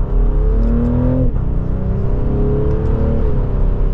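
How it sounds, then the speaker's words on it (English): Exhaust of a 2024 BMW X5 xDrive40i accelerating in sport mode, a strong engine note that climbs in pitch, briefly dips as the gear shifts, then pulls up again, loud and close with no talk. "You can definitely hear a little bit more of that exhaust."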